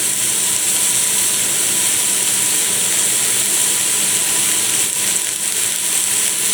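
A low-priced ALDI steak sears in a hot pan, giving a steady, bright sizzling hiss that holds evenly throughout without any talking.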